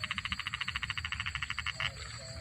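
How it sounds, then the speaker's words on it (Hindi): Frogs croak in a fast, regular pulsing train close by while crickets keep up a thin, continuous high chirping behind them in a quiet forest at night. "आपको सिर्फ झींगरों की आवाज़ और मेंढकों की आवाज़ सुनाई दे रही होगी"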